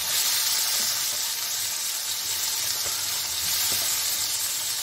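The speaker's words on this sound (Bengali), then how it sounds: "চিপে আমি এখন কড়াইয়ে দিয়ে দিচ্ছি ভাজার জন্য।" Bitter gourd pieces frying in a wok, a steady loud sizzle holding throughout with faint stirring clicks underneath, no voices.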